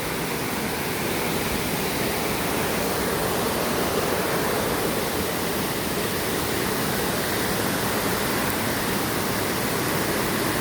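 A continuous, loud rush of falling water from Balaybayen Falls in Berong, Palawan roars steadily throughout, a dense broadband hiss with no pauses and no voices.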